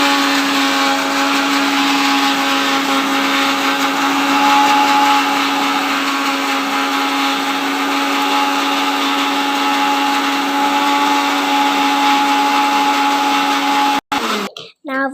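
A mixer grinder grinds a spoonful of sugar, whining loudly and steadily for about fourteen seconds before cutting off abruptly, followed by a few brief clatters.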